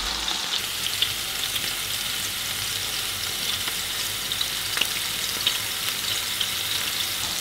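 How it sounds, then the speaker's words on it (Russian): Steady, close sizzling of onion frying in sunflower oil, a continuous crackling hiss with faint pops throughout. "добавляю чуть-чуть подсолнечного масла и отправляем жарить лук"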